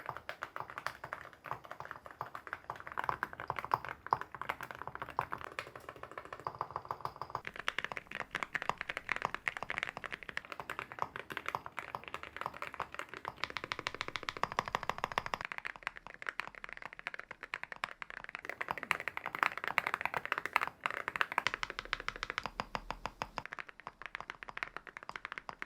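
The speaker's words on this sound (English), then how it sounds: "I'll be throwing on the ceramic keycaps and doing a full typing test" Rapid, continuous clacky keystrokes from a keyboard with ceramic keycaps, typed quickly and close up with short pauses, no talking.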